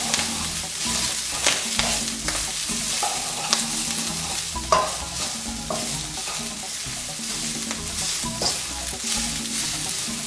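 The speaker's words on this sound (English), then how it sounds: "These things will burn fast in a wok. Keep things moving." Greens stir-frying in a hot wok for a Bombay-style stir-fry, a loud continuous sizzle with repeated scraping and tossing clatters close up.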